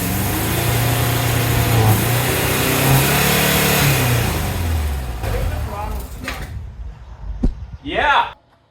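A Subaru Brat engine with a stuck throttle roars at high revs close by, holding loud and steady before dropping away, with voices heard over it.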